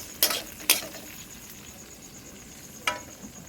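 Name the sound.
frying long beans in a pan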